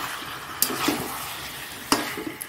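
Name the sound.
skin-on chicken being stirred and fried in oil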